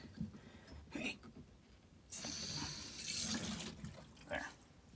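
Water rushes through a cabin plumbing line after a shutoff valve is reopened during winterization, a loud steady hiss surging in for a few seconds, framed by scattered clanks and handling noises.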